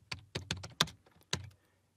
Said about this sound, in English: So I'm going to type Copilot.